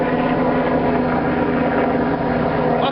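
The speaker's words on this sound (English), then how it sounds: "And now a fucking helicopter is going." A helicopter passing overhead, a loud, steady, droning rotor and engine roar that fills the whole stretch without letting up.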